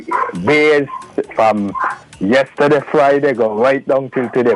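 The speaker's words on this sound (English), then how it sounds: "the dog I hear barking in the back" A dog barks in the background, partly buried under loud, continuous conversation between several people.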